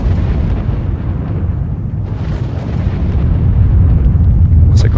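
An emission cataclysm in the S.T.A.L.K.E.R. video game sounds as a loud, sustained low explosive roar, rumbling continuously and swelling slightly toward the end.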